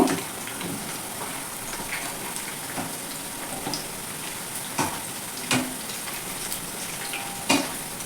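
Raw banana pieces fry in a pan on a low flame with a soft, even sizzle and crackle. Occasional spatter pops stand out, and no one speaks.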